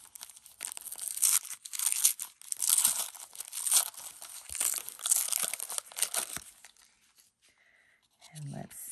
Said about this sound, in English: I just love how they have wrapped everything up individually in ribbon and tissue paper.